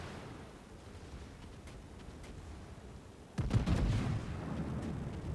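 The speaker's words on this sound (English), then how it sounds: "May look like I'm shooting at his turrets, but I'm actually going for superstructure." Battleship main guns firing in the naval video game World of Warships, aboard the Ohio: a sudden loud, booming salvo over steady low ocean and engine rumble, the heavy blast lingering as a sustained roar.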